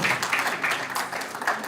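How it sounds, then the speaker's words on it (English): Audience at a lunch event breaking into applause, a short burst of clapping from a modest crowd, fairly close and loud. "Please a round of applause for her."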